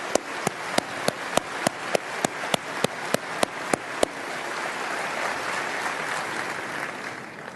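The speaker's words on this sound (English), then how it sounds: "I'll lead the applause for them." Audience applause in a large meeting hall for three gentlemen standing up, opening with a few sharp, evenly spaced claps near the microphone that blend into broad, sustained clapping from the crowd.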